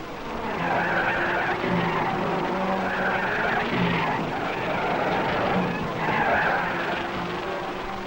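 Racing cars at the 1961 Monaco Grand Prix pass by, a dense, continuous roar of engines with rising and falling sweeps as they go by, loud and steady throughout.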